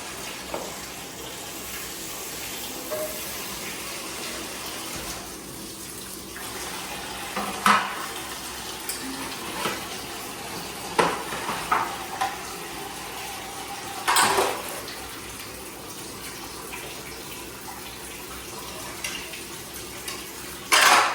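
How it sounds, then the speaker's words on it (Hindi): Dirty dishes, pots and cutlery being washed at a home kitchen sink, with running tap water under scattered metallic clinks and clatters, a few sharper knocks of utensils against pans, close and fairly loud, no talking. "बर्तन हम धो दिए हैं"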